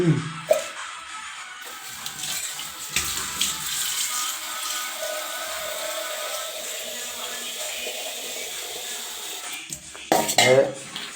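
Malayalam home cook stirring sardine (mathi) curry ingredients with kodampuli in a pot, a steady scraping and clinking of utensil against metal running throughout with louder clatters near the start and end, no talking.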